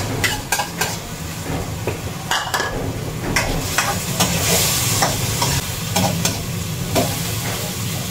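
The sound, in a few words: tomatoes sautéing in a pan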